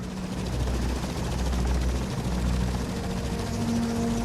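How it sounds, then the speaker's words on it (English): A helicopter in the S.T.A.L.K.E.R. Lost Alpha video game fires on targets, heard as a steady, loud droning rotor rumble that fills the whole stretch with no talking. "there's a helicopter that shoots down things"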